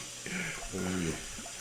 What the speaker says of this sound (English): Let my drink pour before I tell the